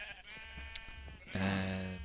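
A sheep in the game Minecraft lets out a loud, close bleat in the second half, following quieter game ambience with faint clicks.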